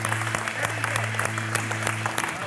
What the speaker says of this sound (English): we got a lot of applause